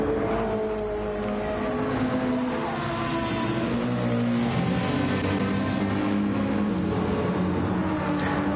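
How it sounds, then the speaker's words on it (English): A Ferrari GT race car sweeps by on the Saint Croix circuit in a racing game, a steady loud engine roar that swells and shifts pitch as it passes, with no talk over it. "Awesome sounding, that Ferrari always when it passes in screen"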